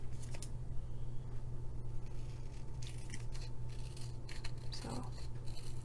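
Faint snipping and rustling of scissors trimming card stock for a glittery slimline card, with soft scraping against a low steady background hum.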